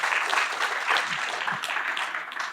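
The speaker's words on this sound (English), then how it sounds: "I think just for that he needs a round of applause" An audience gives a round of applause for a guest speaker, a philosophy major who built two Indian unicorn companies: dense, steady clapping from many hands fills the room at a moderate level.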